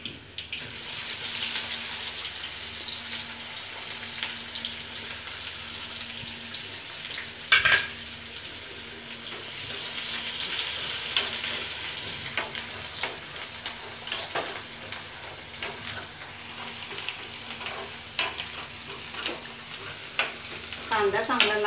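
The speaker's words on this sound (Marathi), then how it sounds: "तर कांदा टाकून घेऊ." Onion and browned garlic sizzle steadily in a pan for a fish curry, with stirring scrapes and clatters, a sharp knock, and running water in the background.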